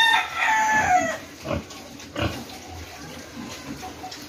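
A hen calls noisily and insistently in a farmyard, a loud burst of squawking clucks at first followed by a few shorter separate calls, with other farm animals faint in the background.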